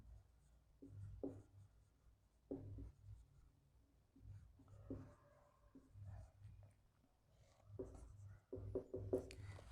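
Handwriting with pen on paper during a Class 9 political science lesson, close, quiet scratchy strokes in irregular bursts with short pauses, no talk.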